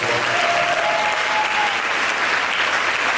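Sustained, dense applause from a church congregation fills the space, steady and loud throughout with a faint voice briefly audible beneath the clapping.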